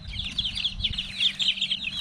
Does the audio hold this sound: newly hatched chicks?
yes